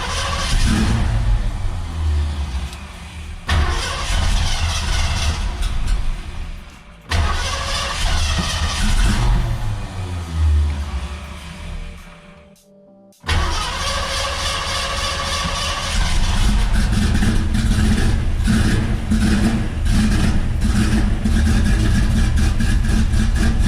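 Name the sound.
1974 Bronco engine starting and running after five years in storage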